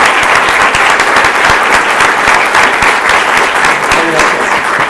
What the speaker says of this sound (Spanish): Pido un aplauso para ellas.